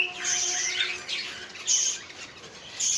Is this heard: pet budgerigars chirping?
yes